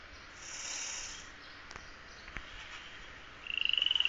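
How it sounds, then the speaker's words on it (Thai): Frogs croak in the video game Day R Survival: a short, rapid pulsed croaking rises near the end over a soft ambient hum, with a few faint ticks earlier and no speech. "มันมีเสียงกบ"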